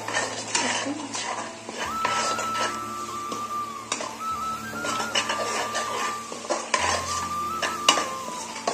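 A spoon scrapes and clanks around a pan as Khandeshi-style eggplant curry with kasuri methi is stirred, close and steady with a faint sizzle underneath and repeated metallic knocks, and no talking.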